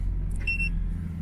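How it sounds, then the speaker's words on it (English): A single short electronic beep from a car's tire pressure alarm chimes over the steady low rumble of the car driving along an outback road in the Simpson Desert. "that's my tire alarm"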